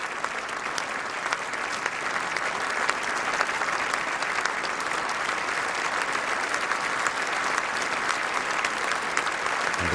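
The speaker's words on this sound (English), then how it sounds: "The Queen once again acknowledges the applause" Sustained applause fills Westminster Hall for the Queen's Diamond Jubilee address to Parliament, a large indoor crowd clapping steadily and loudly for the full ten seconds.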